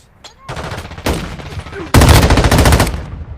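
Mobile shooter video game gunfire, loud automatic bursts up close, one short burst then a longer sustained spray, with game voices calling out around the shots.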